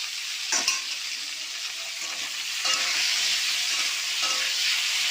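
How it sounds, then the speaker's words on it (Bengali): Potato, tomato and onion frying in hot mustard oil with black cumin in a pan, a steady loud sizzle broken by several scraping stirs, no talking. "আর টমেটো আলু পেঁয়াজ প্রথমেই ভেজে দেবো।"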